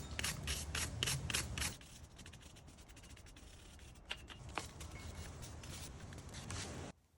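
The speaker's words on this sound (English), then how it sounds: "To remove peeling paint and any visible rust, use a wire brush." Old rusty dumbbells scrubbed with a brush to remove rust and peeling paint, quick rhythmic bristle strokes at first, then softer, slower scraping, faint and close.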